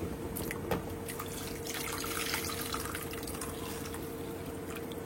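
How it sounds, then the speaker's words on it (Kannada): Water poured steadily into a pot of rasam made with tomato, chilli, turmeric and salt, a continuous faint trickling and dripping sound with a low background hum. "ಪೂರ್ತಿ ನಾನು ನೀರು ಹಾಕ್ತಾ ಇದ್ದೀನಿ"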